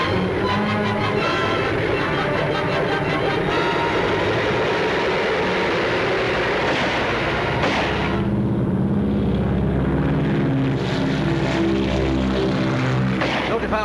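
A propeller airplane engine roars continuously and close as the plane takes off, with a throbbing drone that shifts and swells midway, and voices briefly underneath.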